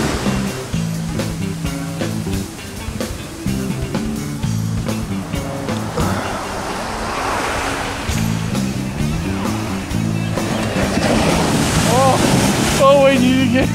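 Ocean surf rolling and breaking along the California coast, a steady broad wash of waves with wind buffeting the microphone, while people shout and talk over it throughout.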